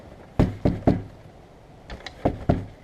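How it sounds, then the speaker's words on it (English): Knuckles rap on a house door in two clear bursts, three sharp knocks close together and then a quieter pause before three more, close and fairly loud with nothing else around them. "let's knock."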